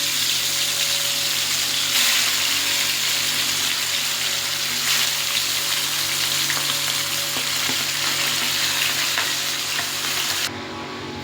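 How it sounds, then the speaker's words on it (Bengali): Pieces of fish sizzle steadily in hot oil, a dense continuous crackle that holds loud and even for the whole stretch before dropping slightly near the end, with no one talking. "তেলটা গরম হয়ে গেছে, এবার এক পিস করে একটা একটা করে মাছগুলো"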